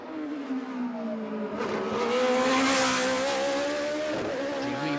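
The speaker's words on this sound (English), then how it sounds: "some of the historic F1 cars are released from the pits" Historic Formula 1 cars race on the Baku street circuit, their engines revving loudly and close by, rising in pitch as they accelerate, with no talk over them.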